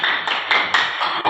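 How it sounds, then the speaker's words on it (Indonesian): A small classroom group claps for the first student team after its presentation in an Islamic studies lesson, giving a short burst of close, uneven hand claps. "tepuk tangan untuk kelompok 1"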